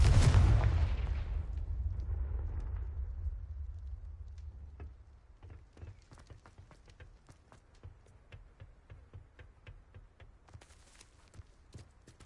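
A Confringo spell blast in Hogwarts Legacy booms loudly at the start and rumbles away over a few seconds, followed by a run of faint, scattered clicks and light impacts.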